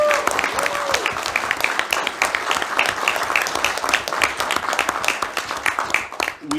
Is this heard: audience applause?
yes